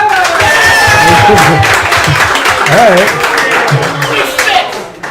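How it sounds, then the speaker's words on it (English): A team's round of applause given as a vote, with quick clapping, some cheers and a crowd murmur, building and then thinning over several seconds while voices talk through it. "By a round of applause, do you think Leo is the comic relief?"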